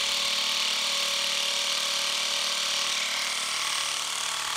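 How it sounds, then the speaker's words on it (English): A Milwaukee M12 Surge impact driver in Mode 3 drives a long screw down through two stacked treated 4x6 timbers. The tool gives a loud, steady, close whirring buzz that runs continuously throughout. "Mode 3 definitely doing the job, bringing that down through the treated 4x6, two of them"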